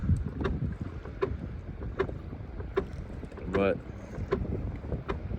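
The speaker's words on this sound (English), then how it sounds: "The wind is starting to die down a little bit." Steady wind blowing over a lake from a small fishing boat, with gusty rumble against the microphone and light water slaps, and someone speaking briefly.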